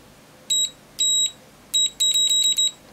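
A Keysight U1282A multimeter's continuity sounder beeps loudly and close: two single tones, then a fast run of short repeated beeps, with no talking.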